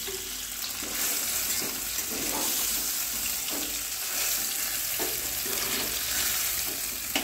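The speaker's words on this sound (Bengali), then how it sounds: "পনিরটা একটু ভেজে নেব" Paneer fries in a pan, producing a constant close sizzle with occasional soft stirring and scraping bumps, with no voice over it.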